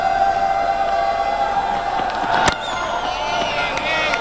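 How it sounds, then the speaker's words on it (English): Crowd cheering at a Pakistan vs Sri Lanka one-day international cricket match, a broad steady roar of a large stadium audience with a brief sharp spike partway through and whistling tones rising above it. "Draws a bit of cheer from the crowd"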